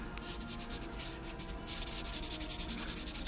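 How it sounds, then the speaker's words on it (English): A Daiso 3-step sanding stick is rubbed rapidly back and forth over a plastic model kit part, close-up, with a slower stroke rhythm at first, then louder, quicker strokes. "you can use one of these 3-step sanders"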